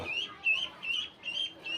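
Young ducklings and chicken chicks peep faintly in a quick run of about five high, thin calls, evenly spaced against a quiet background.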